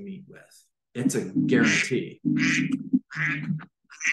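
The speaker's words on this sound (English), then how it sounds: "By the way, that was my phone. It's a duck." Duck-quack phone ringtone, a series of short nasal quacks going off under a man's continuous speech, fairly close and loud with brief pauses between bursts.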